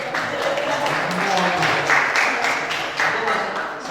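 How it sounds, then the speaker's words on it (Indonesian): An audience at an academic talk on karawitan gives a round of steady clapping, filling the room evenly, with voices mixed in. "Tepuk tangan untuk Mas Dian."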